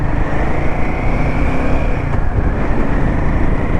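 Road traffic moves steadily past a mountain tunnel on the Delhi–Manali highway, near a landslide-damaged stretch. It makes a continuous, fairly loud rumble of engines and tyres close by, with no pauses.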